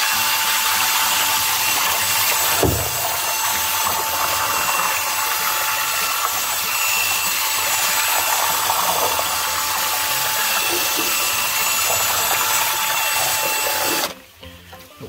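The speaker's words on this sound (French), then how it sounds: "d'une visseuse et puis d'un mélangeur, ça c'est des mélangeurs à colle là." A cordless drill driving a glue-mixing paddle stirs comfrey liquid manure in a container, making a steady, close, continuous whir and churn that runs unbroken for most of the stretch before cutting out near the end.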